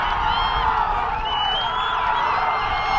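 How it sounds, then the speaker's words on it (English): Rugby crowd at the 2014 men's Division II final, UW-Whitewater against UM-Duluth, roaring steadily after Whitewater's Brandon Lopez scores a try, a dense sustained wash of cheering and whoops from the stands. "You can hear the crowd's answer. They're fired up here."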